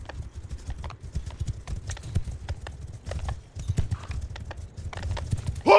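Cavalry horses gallop in Mount & Blade II: Bannerlord, a dense, continuous drumming of many hooves at close range, with a horse's whinny rising at the very end.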